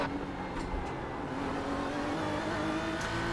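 GT4 race cars at the 12 Hours of Sebring roaring past in a steady engine drone, with a rising tone and a couple of brief louder swells as cars go by, no talk.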